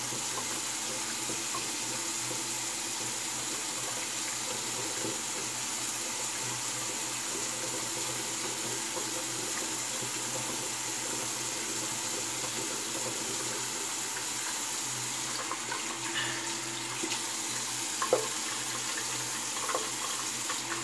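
A tap runs steadily into a sink at a shaving basin while the face is re-wetted, a soft continuous stream of water with a few faint splashes near the end.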